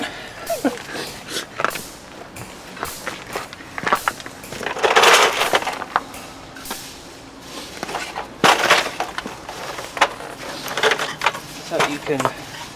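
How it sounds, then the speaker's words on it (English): Sharp metallic hammer strikes on a steering knuckle of a 2001 Pontiac Grand Am during wheel bearing and hub replacement ring out irregularly, some single and some in quick pairs, loud and close, with someone talking between blows. "Don't use a household claw hammer, use a real hammer."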